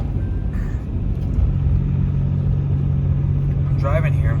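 A car drives at night with Boslla Bullet LED headlights, giving a steady, loud cabin rumble of road and engine noise throughout while someone talks over it.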